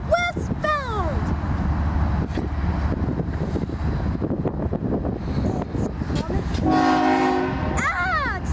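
A westbound autorack freight train rumbles past loudly and close while its horn blasts in short bursts near the start and end, with people talking over the noise.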